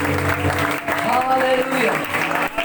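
A seated congregation at a street worship gathering in Azam Basti, Karachi, claps together in a dense, fairly loud burst while a singing or preaching voice carries on over the applause.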